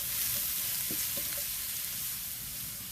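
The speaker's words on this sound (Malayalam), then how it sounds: "ഒരു പാൻ വെച്ച് വെളിച്ചെണ്ണ ഒഴിച്ച് ചൂടായിട്ടുണ്ട്. ഇനി അതിലേക്ക് നമ്മൾ സവാള ഇട്ട് കൊടുക്കാം." Sliced onions fry in hot coconut oil in a pan for a Kerala prawn roast, giving a loud, steady, close sizzle that fills the whole moment, with no voices.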